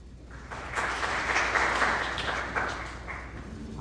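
Audience applause after a presentation at a youth convention, a steady burst of many hands clapping that swells and then eases off over a few seconds.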